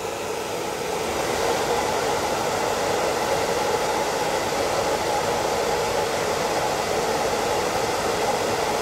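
A hair dryer blows steadily while a dog's fur is dried at home, giving a loud, continuous, even whoosh that runs uninterrupted from start to finish.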